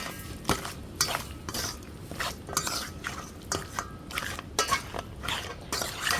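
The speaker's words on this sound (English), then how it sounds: "I'm gonna add some curry to the meat" Curry is stirred into goat meat in a pot for Jamaican curry goat, a spoon scraping and knocking against the pot in a steady rhythm of repeated clinks over a soft background hiss.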